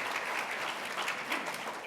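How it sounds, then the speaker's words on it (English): Dense, steady applause from a symposium audience honoring nonprofit fundraising award winners, a continuous wash of many hands clapping at even loudness throughout, with no voices rising above it. "So please give them a round of applause"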